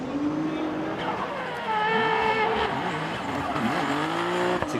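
A drift car in a qualifying run at Okayama International Circuit, driven under heavy throttle as it runs off the track: loud, close, high-revving engine whine with rising and falling pitch and squealing tires throughout.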